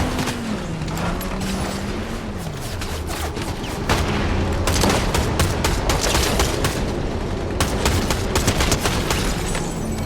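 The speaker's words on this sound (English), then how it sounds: "I hear shooting." Gunfire erupts in a Fallout game as rapid overlapping shots crackle and pop in dense volleys, growing heavier partway through over a low droning background.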